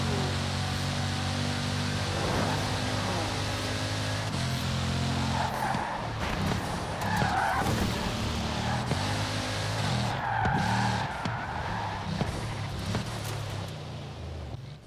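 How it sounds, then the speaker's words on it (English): A W16 8-litre car skidding and drifting in Forza Horizon 4, with a droning engine note and tire squeal rising and falling in bursts across the stretch, loud and continuous without talking. "It wheel spins, it drifts, and it just delivers power in such a stupidly fast way."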